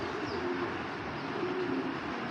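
Giribaz pigeons of the original Parla line coo softly in a couple of faint, low, drawn-out phrases against a constant background hiss, with no talking.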